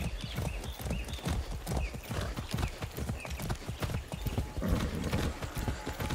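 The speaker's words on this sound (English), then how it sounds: "Be nice, horse." Rhythmic clip-clop of horse hooves trotting steadily and close in Far Cry 6, with a whinny breaking through partway, amid a busy game soundscape.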